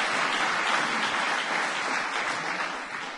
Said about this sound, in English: Nothing wrong with clapping about that.